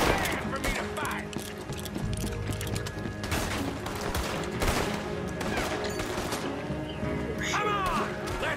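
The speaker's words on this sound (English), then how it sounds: "Gunshot!" Gunfire from the Red Dead Redemption 2 video game, with repeated shots and clattering impacts spread over a busy game soundscape, mixed with voices speaking throughout.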